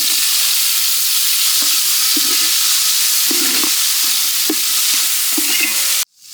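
Tomatoes and small onions sizzling steadily in a hot pan for a country chicken gravy, with a broad close frying hiss and occasional soft scrapes of stirring, then an abrupt stop.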